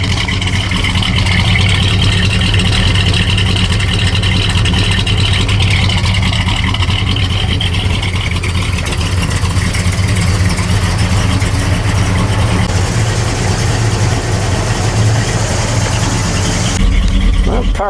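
A 1979 Pontiac Firebird Trans-Am convertible with a near-stock V8 and dual exhaust, rumbling steadily and loudly while driving on a road test, a continuous throaty engine drone with slight shifts in pitch and no talking.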